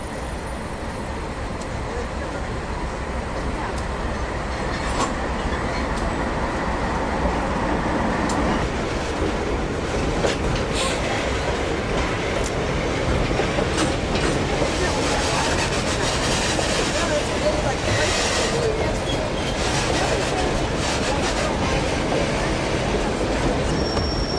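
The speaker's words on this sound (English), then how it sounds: "Comes another train." A train passes near the summit of the Skagway railway in snowy winter conditions, a steady, close rumble of rolling wagons with wheel squeal and rail clatter running throughout.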